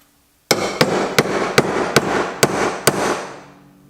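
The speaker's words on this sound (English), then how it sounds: "we should probably use a ball peen hammer because it'll probably tap in a lot better" Seven sharp, evenly spaced metallic strikes from a ball peen hammer tapping a flange into place on a budget turbo LS engine build, loud and close with ringing tails between blows.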